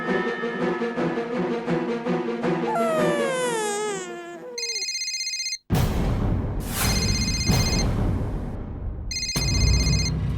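A mobile phone ringtone plays in a Marathi comedy scene, sounding in two short, repeated electronic bursts over busy background sound and wailing voices.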